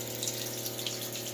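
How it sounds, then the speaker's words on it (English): Water drains steadily out of a hot water heater with a constant rushing, gurgling flow and a low steady hum underneath, even and uninterrupted. "trying to run all the water I can out of the hot water heater"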